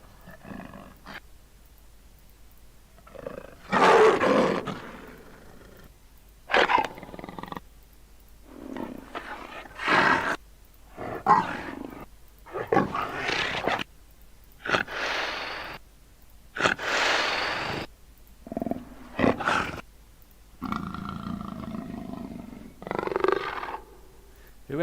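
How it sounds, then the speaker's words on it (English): A leopard's recorded roar used as a Battlefield 4 game sound, a series of harsh rasping grunts and snarls in separate bursts with short silences between them, loud and close, with no other sound. "Whoever was recording this leopard had really pissed it off. That's one pissed off cat."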